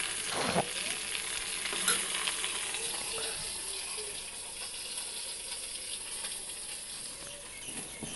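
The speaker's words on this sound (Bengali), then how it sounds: "এদিকে মাছ ভাজা মাছের মাথাটাও ভাজছি" Bhetki fish head frying in oil in a home kitchen, a steady broad sizzle with occasional crackles and brief clinks of utensils, fairly close and continuous throughout.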